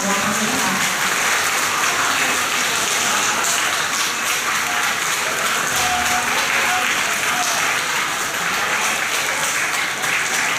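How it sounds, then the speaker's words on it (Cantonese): A school award ceremony audience gives loud, sustained, dense applause that stays steady from start to finish and sounds close and full. "請大家一次過俾大力啲掌聲"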